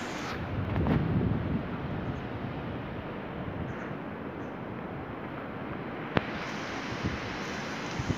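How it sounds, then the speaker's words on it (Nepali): Cool wind blowing through an underground passage beneath the MIDIM Bridge, a steady broadband rush with a stronger gust near the start and a single sharp knock later, with no voices. "डेन्जर शीतल हावा आउँदो रहेछ त यहाँ तल त"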